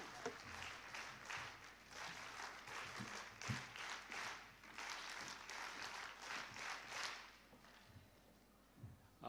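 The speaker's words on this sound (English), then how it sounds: "can we have the NSS clap before he begins the session?" A youth summit audience claps rhythmically in unison, sharp synchronized bursts repeating for several seconds in a large hall before trailing off to quiet.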